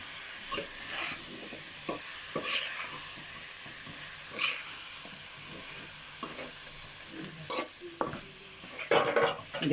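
Spoon stirring curry in a hot pan, with steady sizzling throughout and irregular scrapes and knocks of the utensil against the metal, close and moderately loud.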